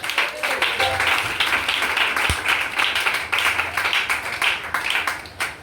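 A church congregation claps rhythmically in praise, a steady stream of sharp, loud hand claps filling the space with a few voices under the clapping and a single dull thump partway through.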